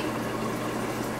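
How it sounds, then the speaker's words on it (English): Water added from a tap or jug onto a sheet of 6 cm rice paper on a plate, a steady close hiss of running liquid throughout, with no talking. "Then I'm going to add my water to it."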